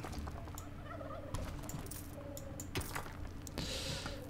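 Chickens cluck in a video game amid repeated short clicks and small percussive game effects, with a brighter burst near the end, all at a low, steady level and no talk.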